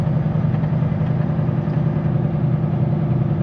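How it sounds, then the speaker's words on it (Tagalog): A Cummins diesel truck engine idles with a steady low, continuous rumble, close and fairly loud, with no other sounds over it. "Ito talaga yung tunog ng Cummins oh"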